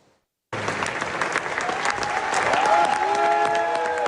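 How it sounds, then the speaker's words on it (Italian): A theatre audience applauds conductor Beatrice Venezzi at the end of a performance. Loud, full clapping starts abruptly after a brief silence and holds steady throughout. "Gli applausi che hanno salutato l'uscita di Beatrice Venezzi al termine dello spettacolo"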